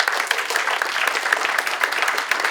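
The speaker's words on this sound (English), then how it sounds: "A round of applause for him" A brief, steady burst of applause from a student audience cheering a volunteer at a school event, dense clapping close by with no talking.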